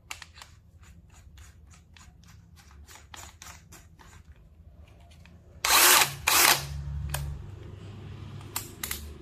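Chuck lock on a Dewalt DCD999 drill, a rapid series of sharp ratcheting clicks close up, followed by a couple of louder whirring bursts and a few more scattered clicks, with no talk.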